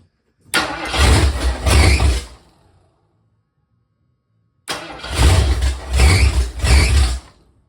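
A 347 stroker V8 in a 1976 Mercury Monarch starts up in two loud bursts, each catching and revving roughly for about two seconds with surging, uneven throttle, separated by a stretch of near silence before the second attempt.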